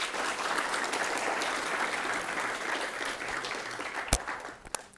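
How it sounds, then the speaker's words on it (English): A university lecture hall audience gives a round of applause, a steady, moderately distant patter of many hands clapping that thins out toward the end with a few sharp, louder claps. "Give her a round of applause."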